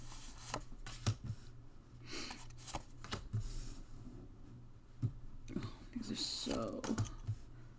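Tarot cards being cut three times and laid down, with crisp flicks, slaps and shuffling rustles spaced irregularly, close by, amid soft voice sounds.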